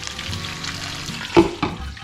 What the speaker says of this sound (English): Catfish in there frying away